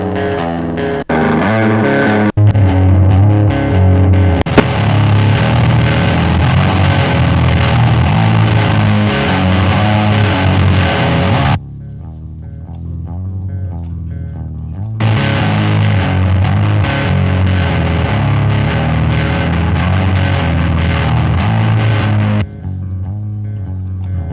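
An electric guitar played through GarageBand amp presets, including a heavy distorted tone, sounds loud and sustained with strummed chords, pausing briefly midway before resuming, with no talking.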